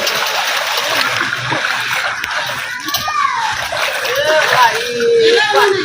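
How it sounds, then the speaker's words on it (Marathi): Floodwater from heavy rain rushes and splashes steadily through a residential lane in Pandharpur, a loud continuous wash with people talking over it. "तिकडचं पाणी इकडे सोडलंय म्हणून आपल्या गलीत पाणी शिरलंय वरचं बत्तीस खोल्यापासून भरपूर पाणी आलेलं आहे"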